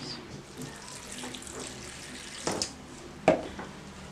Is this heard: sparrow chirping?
no